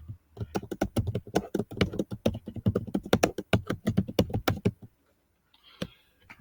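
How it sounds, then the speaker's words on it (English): Someone types a search on a computer keyboard: a quick, uneven run of crisp key clicks for about five seconds, then silence and a couple of last taps. "So here I'm going to type in a search."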